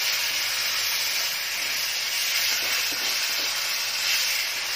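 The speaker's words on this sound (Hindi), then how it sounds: "तो इसको हम अच्छे से मिक्स करके फ्राई करेंगे।" Paneer sabzi masala with a little yogurt frying in a pan, a steady broadband sizzle and hiss that holds even and close throughout with no talking.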